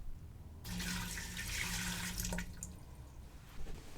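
Water pours into a Nesco (Carey) smart canner being filled for steam canning, a steady splashing rush starting after a short pause, running for about two seconds, then tapering to quieter trickling and drips.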